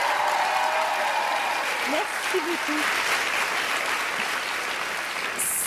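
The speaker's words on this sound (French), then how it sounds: "Je pense que ça mérite encore une bonne main d'applaudissements." Studio audience applause on the Quebec reality show Loft Story, a steady broad wash of clapping filling the scene, with someone briefly speaking over it.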